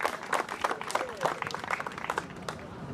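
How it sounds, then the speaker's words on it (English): A crowd at a school cricket championship final applauds the finalists, a scattered, uneven run of claps with distinct individual hits, under a murmur of voices. "Round of applause for your 2 championship finalists, Martin Van Buren and John Bowne."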